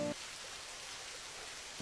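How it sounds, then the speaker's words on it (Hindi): Steady rain pouring down outside a small roadside tea stall, an even hiss of falling water with no voices. "बरसात लग गई है।"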